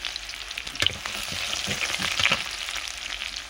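Chopped onions frying in a pan for a Bengali chitol fish muithya, a continuous crackling sizzle with occasional stirring scrapes, close and moderately loud, no one speaking.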